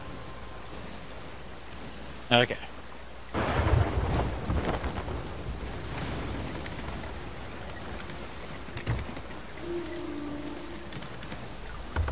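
Stormy weather at sea in the pirate game Sea of Thieves: a steady wash of rain hisses throughout, broken by a sharp crack and a heavy rumbling thunder roll, with a brief spoken word and faint game sounds.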